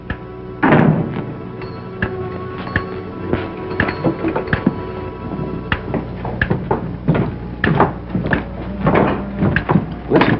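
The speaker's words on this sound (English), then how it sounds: "And close the door after you." A door shuts in an old-time western radio drama, landing as a few dull thuds and knocks amid a busy, crackly background of further clatter.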